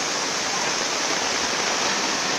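A steady, loud rush of flowing water fills a corner of a stream in Cuba where clarias are fished, a constant close wash with no pauses and no talking.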